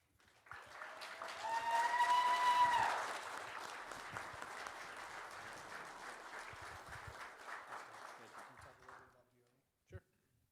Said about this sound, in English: Thank you all very much for the kind applause and the screams.